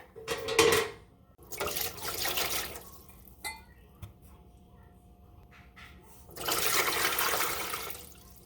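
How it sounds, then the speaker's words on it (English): Tap water runs in loud bursts into the water pan of a new rice noodle roll steamer, with quieter gaps and small clunks between fills. "So I'm gonna go ahead and fill this up with water."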